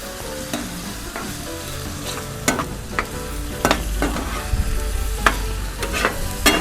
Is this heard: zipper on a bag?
no